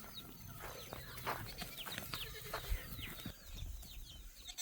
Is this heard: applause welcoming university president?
no